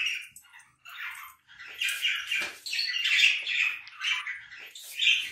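Alexandrine parakeets and budgies calling together indoors, a busy run of sharp squawks and chattering chirps in overlapping bursts, close and fairly loud, with no voices.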